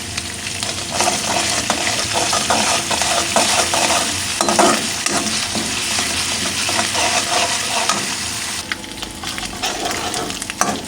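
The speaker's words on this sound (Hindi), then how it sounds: "कुकिंग ऑयल में मैंने लहसुन अदरक को पेस्ट ऐड कर दिया, हल्का सा फ्राई करूँगी।" Garlic-ginger paste fries in hot cooking oil in a kadai, a steady loud sizzle with scraping and stirring running through it from start to end, no voices.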